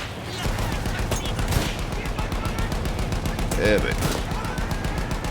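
Rapid rifle fire from a video game rattles in fast repeated bursts, loud and close, while a person speaks briefly over it.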